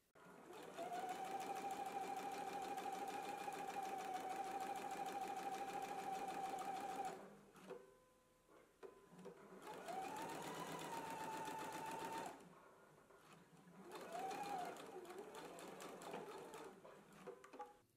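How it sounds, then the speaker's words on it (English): A home sewing machine runs a row of understitching along a pocket seam on a garment, sewing in three steady bursts with short pauses and gaps between them, close and clear with no talking. "we're just gonna do a row of understitching right here"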